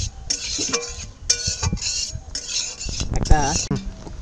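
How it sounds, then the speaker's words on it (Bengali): Whole tempering spices frying in a pan of oil for a raw mango pickle, stirred with a metal spoon that scrapes and clinks against the pan in quick, uneven strokes, close and fairly loud with no voices. "আর একটু এবার ফোড়নটাকে ভালো করে ভেজে নিতে হবে"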